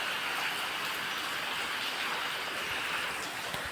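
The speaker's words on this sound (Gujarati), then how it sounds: "વરસાદ શરૂ થઈ ગયો છે" Rain pouring down on a farmstead with buffaloes, a dense steady hiss of drops hitting the ground and surfaces, close and loud throughout.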